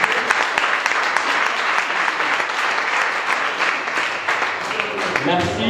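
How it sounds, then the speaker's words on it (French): Resounding applause from a concert hall audience honoring an Olympic champion at a 2021 Sédhiou gathering, a loud, continuous roar of many hands clapping that holds steady throughout, with a few voices briefly audible toward the end. "je demande vraiment à la salle de concert avec moi de lui vraiment réserver un applaudissement retentissant."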